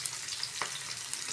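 Tomatoes with capsicum frying and being stirred in a pan, a soft steady sizzle with one brief scrape of the spoon midway, close and quiet.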